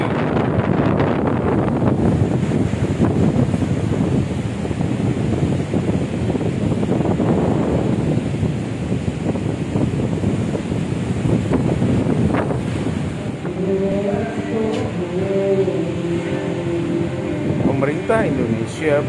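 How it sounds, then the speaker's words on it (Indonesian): Strong wind and high waves at Lagoi Beach, Bintan: continuous gusty wind buffeting the microphone over a steady roar of surf, loud and unbroken throughout, with faint tonal sounds near the end. "Sekarang cuaca sedang mengalami angin kencang di musim utara,"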